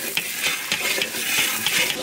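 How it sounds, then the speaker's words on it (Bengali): Spices sauté in hot oil in a pan, including ginger paste, chili and salt. A close, bright sizzle is broken by quick, repeated stirring scrapes. "মশলা কষানো হয়ে গেছে"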